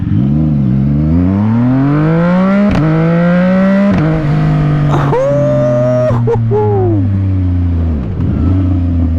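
Suzuki GSX-R1000 1000cc motorcycle engine revving up and down repeatedly, loud and close, with rising and falling pitch sweeps and no talk over it.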